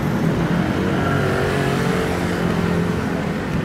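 Motor tricycles pass along a busy street in a Muntinlupa neighborhood, a steady, loud engine drone with rumbling low end that holds for several seconds without a break, no talking over it.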